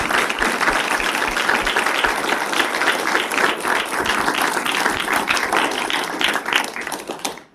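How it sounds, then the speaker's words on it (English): Loud audience applause fills a hall at an executive forum, dense steady clapping that holds for several seconds and then tapers off at the end. "Give them a big round of applause for this wonderful."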